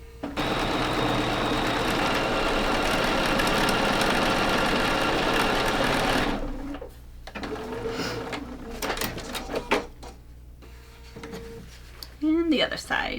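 A home sewing machine stitches a quilt block in a continuous steady whir for about six seconds, then stops. Fabric handling and small clicks follow in the quieter stretch.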